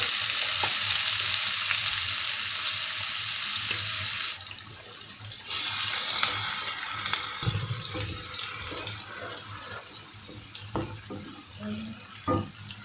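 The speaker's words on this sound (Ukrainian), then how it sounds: "Зараз смажимо цибульку, щоб вона стала прозорою, такою гарною." Sliced onion sizzles and fries in a pan after chicken drumsticks are taken out, a steady loud hiss with occasional stirring clicks and scrapes, no talking.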